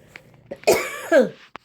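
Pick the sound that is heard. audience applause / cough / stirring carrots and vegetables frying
cough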